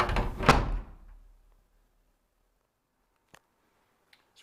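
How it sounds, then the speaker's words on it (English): A storeroom door full of spare materials swings shut with a single solid thud at the start, its rumble fading into quiet, followed by a few faint clicks as it is secured. "So I shall keep the door secure on that one."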